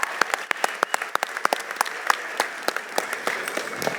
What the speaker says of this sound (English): I want to take this time to give a round of applause to all of the speakers